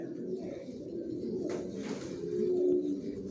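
Racing pigeons of a long-distance line coo softly inside a pigeon loft, a steady low murmur of overlapping calls with a brief rustle partway through, fairly close and continuous.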